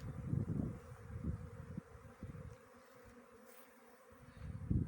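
Honey bees buzz steadily at an outdoor apiary with young 2023 queens, a dense low droning swarm close by that swells and fades, with no one speaking.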